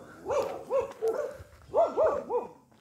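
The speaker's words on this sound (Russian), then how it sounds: "Какая-то собачка прибежала" A reddish dog that looks like a laika gives a series of short barks, two groups of three spaced yelps with a brief pause between them, fairly close.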